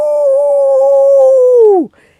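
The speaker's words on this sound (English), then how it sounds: "He howled under her window." A single long dog howl, loud and close, holding a steady tone before sliding down and breaking off near the end.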